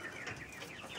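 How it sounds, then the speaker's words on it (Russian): An Ameraucana rooster gives a brief, faint cluck, lasting about a second. "Петушок Амерукана."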